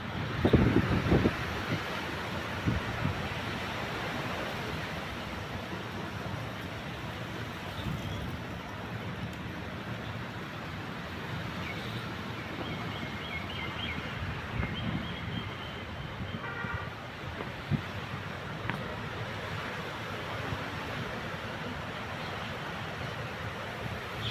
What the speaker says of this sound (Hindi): बहुत तेज़ हवा चल रहा है दोस्तों